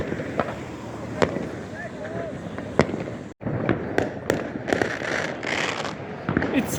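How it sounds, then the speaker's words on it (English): Fireworks bursting over Szczecin, Poland, on New Year's Eve, near the riverside: a string of sharp cracks and booms, some close and loud, others distant, recurring at irregular intervals over a steady crowd murmur with people talking. "The fireworks were shot more and more frequently"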